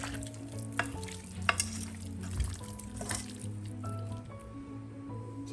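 Ginger chicken marinade being stirred and squished by hand or spoon in a bowl, steady wet mixing sounds at close range with soft clinks, no speech over it.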